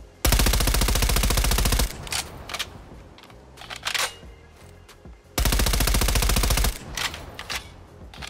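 Bursts of automatic weapon fire from a Black Ops Cold War gun, two long loud sustained volleys of rapid shots separated by quieter mechanical handling noises, with no talking.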